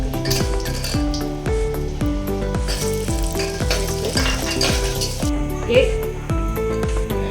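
Cashews frying in a pan of spices for coconut rice make a steady sizzle. Bright metallic clinks and stirring scrapes land under it at a regular beat, and background music plays.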